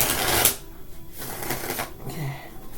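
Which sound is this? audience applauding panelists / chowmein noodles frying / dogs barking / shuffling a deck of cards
shuffling a deck of cards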